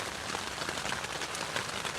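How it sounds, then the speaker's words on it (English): Steady heavy rain pattering on a surface in an urban woodland in late spring, a dense even hiss of drops with no letup. "That rain's not easing off."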